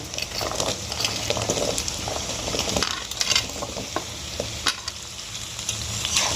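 Chopped potatoes frying with onions and green chillies in a pan, loud close sizzling and scraping as a spoon stirs them, with scattered clinks.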